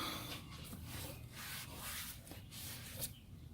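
Meguiar's Ultimate Black Plastic Restorer is rubbed onto oxidized car plastic trim, making soft repeated scrubbing strokes in a steady back-and-forth rhythm, close and quiet.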